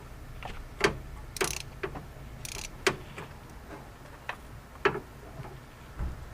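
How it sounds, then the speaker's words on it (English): A spark plug is worked loose from a 2003 Mazda Tribute V6 ES engine with a string of sharp, irregular clicks and ticks from the tool, close by and fairly crisp, with no talk. "now we'll pull this spark plug."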